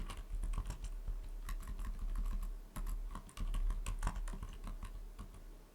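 Quick bursts of keystrokes on a computer keyboard as a file name is entered, a steady patter of light clicks close to the microphone, with no voices.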